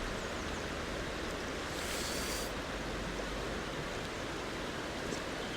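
A high-volume rising river flows steadily during a fly-fishing trip for grayling, a broad, constant rushing wash heard alone at moderate loudness throughout.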